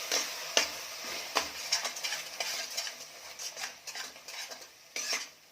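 Ground coconut paste is stirred into mutton in a pan with a quiet scraping and clinking of a spoon against metal. A soft sizzle sits underneath, and the sound is fairly faint with no voices.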